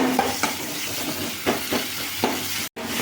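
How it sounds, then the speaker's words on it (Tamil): Chopped onions and tomatoes sautéing in a pan for a chicken dish make a loud, continuous sizzle broken by a few soft spatula scrapes, with a brief dropout near the end. "இது 5 நிமிஷம் வதக்கணும்."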